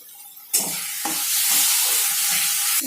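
Soya chunks and boiled potato frying in a little oil in a wok, stirred together: a steady loud sizzle and hiss that swells as the ingredients go in, with faint scraping stirs underneath.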